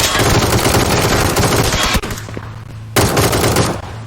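Gunfire in PUBG: loud, dense bursts of automatic shots fill the first two seconds, drop away briefly, then resume in another rapid burst before fading.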